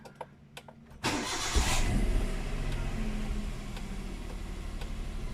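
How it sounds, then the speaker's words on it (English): A Hyundai Eon's engine cranks briefly and catches, then settles into a steady, close idle after a short rev, alone without talk. "we're gonna go ahead and start the engine and observe for any leaks and if the fan motor is working properly"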